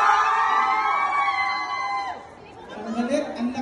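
A group of people in Batha, Riyadh, shout together in a loudest-shout contest at a fun games event. The sustained, loud, tonal yell is heard close up and trails off, followed by livelier crowd chatter and cheering.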